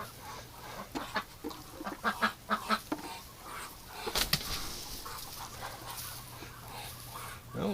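Muscovy ducks inside a duck house in winter give off a run of short, soft honking calls nearby, with a faint low hum behind them.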